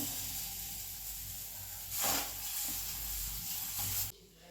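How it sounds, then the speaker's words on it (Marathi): Gram flour batter poured onto a hot griddle with oil added at the side, giving a steady, close hiss that swells briefly midway, then cuts off abruptly near the end. "तर बघा पहिली पोळी आपली सोडलेली आहे तव्यात, साईडनं तेल टाकून घेऊया।"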